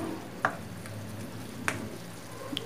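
White pechay (bok choy) stems cook in a pan with a steady, soft sizzle, and a few faint utensil taps come through now and then.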